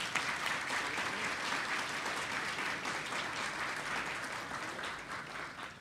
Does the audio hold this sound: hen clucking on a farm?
no